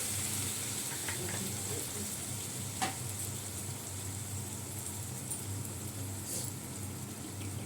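Water poured into a hot cooking pot gives a steady hissing sizzle with a low rumbling bubble underneath, fairly constant with a few brief clinks.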